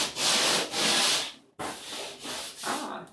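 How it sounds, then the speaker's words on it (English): A power sander run over a drywall patch, rasping in several loud sweeping passes with a brief pause midway, no voices over it. "so we're going to just run the sander over."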